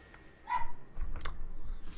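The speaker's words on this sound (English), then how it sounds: "Dogs are barking." A few short dog barks from indoor pet dogs, somewhat distant and fairly faint, breaking out in a small cluster.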